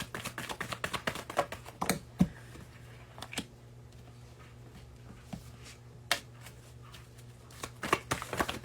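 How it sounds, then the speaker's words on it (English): Cards are shuffled and pulled from a deck during a card reading: quick clusters of crisp taps and flicks, bunched at the start and end with sparse single clicks between, close and fairly quiet. "Let's pull some more cards."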